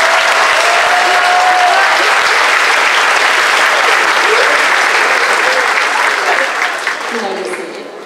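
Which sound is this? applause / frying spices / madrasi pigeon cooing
applause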